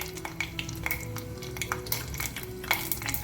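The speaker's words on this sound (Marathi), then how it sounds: "तेल गरम झालं. मोहरी टाकते, जिरं," Mustard seeds and cumin dropped into hot oil, crackling with scattered sharp pops and clicks over a low steady hum, close and fairly quiet, with no voices.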